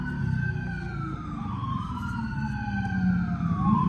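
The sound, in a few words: sirens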